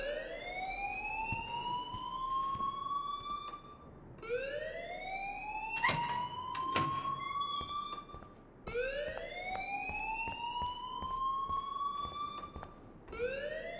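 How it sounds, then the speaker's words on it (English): Fire alarm in the Life is Strange video game, a loud electronic siren that sweeps upward in pitch in repeating cycles, with brief clanks and bangs cutting through between sweeps. "please turn off that alarm since that's your job"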